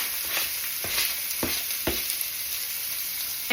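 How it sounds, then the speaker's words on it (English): A diced yellow onion sizzles in bacon grease with a steady, hissing fry, broken by a few scraping stirs early on. "Now to your bacon grease, you want to add a diced yellow onion,"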